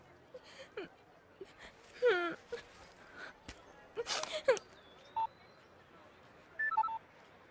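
Telephone number being dialed on a phone, a few short scattered tones with clicks and handling noise, fairly quiet and close, with no talk over it.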